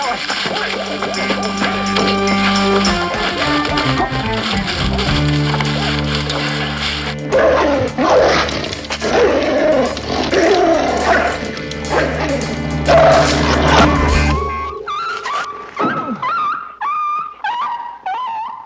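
A dog yelps and whimpers after being shot during a 1974 crime-drama gunfight, high cries rising out of a dense bed of loud dramatic music, then a series of short, separate whines near the end.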